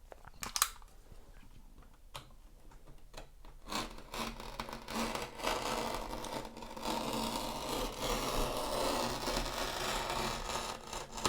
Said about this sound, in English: Is thin, so it's probably quite easy to cut with utility knife